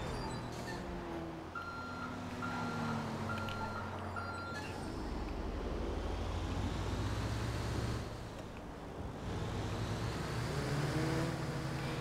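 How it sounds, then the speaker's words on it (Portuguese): City traffic in a video game, with car engines revving and passing loudly alongside repeated reversing beeps near the start. "olha os carros dos NPC"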